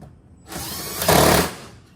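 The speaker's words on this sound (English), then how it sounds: "tighten it down with the drill, with the impact." An impact driver drives a 7mm bolt into the fender liner of a 2009-15 Cadillac CTS-V. It gives one short whirring burst that rises into a louder rattling hammer for about half a second, then stops, close and alone.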